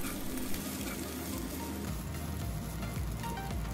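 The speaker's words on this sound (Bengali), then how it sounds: "তারপর নারকেলটাকে ব্রাউন হওয়া অবধি ভেজে নেব লো ফ্লেমে।" Grated coconut and spices fry on a low flame in a pan, giving a soft continuous crackling sizzle with faint stirring, heard up close and quiet.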